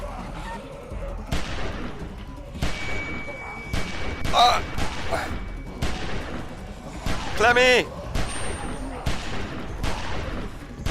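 Gunfire in The Walking Dead video game, a few sharp shots standing out among game sounds and music, with players talking excitedly over it.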